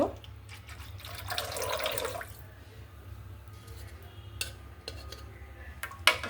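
A little water is poured into a pot in a home kitchen while making pakan pitha, a brief soft splashing stream lasting about two seconds, followed by faint clinks of utensils, no talking.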